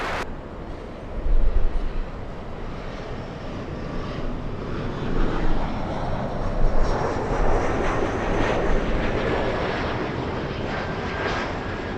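An airliner coming in to land on runway 24 right at Los Angeles International Airport, its broad engine roar rumbling steadily and swelling slightly as it passes, heard from a distance with no talk.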